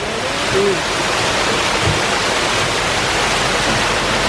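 Thunder Falls at Dogwood Canyon near Branson, Missouri, pours in a dense, continuous broadband roar of falling water, close and loud throughout with no breaks.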